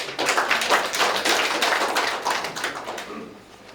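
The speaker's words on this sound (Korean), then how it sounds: "우리 박수 한번 쳐주십시오, 스님한테." A crowd at an outdoor rally against Japan in South Korea claps steadily for a few seconds, a dense patter of many hands that tapers off at the end, with no talk over it.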